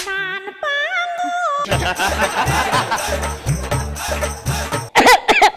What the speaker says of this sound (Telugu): ఏమండి, మీకు దగ్గు వస్తుంది అంతేగా?